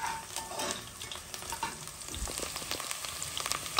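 Onion frying gently in a pan for a shrimp and cabbage dish, with soft crackling sizzle and scraping stirs, fairly quiet and close, no talking.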